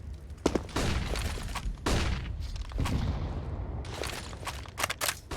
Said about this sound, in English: because Darko, he's fast on the trigger.